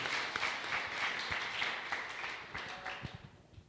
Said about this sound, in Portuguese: Vamos aplaudir ao Senhor Jesus por esse privilégio.